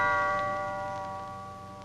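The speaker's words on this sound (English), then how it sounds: "Sound your gong, Alvin." A gong struck once, its sustained metallic ring with several steady tones slowly fading over a couple of seconds, heard alone.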